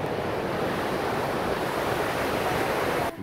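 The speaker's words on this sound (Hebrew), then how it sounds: "מפל." Steady roaring rush of a waterfall heard alone, a dense continuous wash of falling water that stays loud and even for about three seconds before cutting off abruptly.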